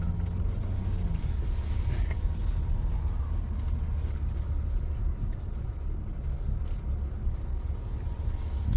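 Range Rover engine pulling slowly off-road under gentle throttle, a low, steady rumble heard from inside the cabin with faint road noise and no sharp revs.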